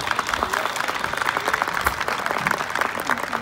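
Crowd applause at a rodeo tournament in Plaza Dos Hermanos, Kilgore: dense, sustained clapping from many hands with scattered voices mixed in, loud and continuous.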